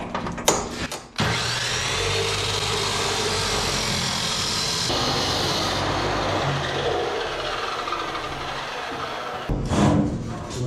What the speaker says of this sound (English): Let's cut our next piece of pipe.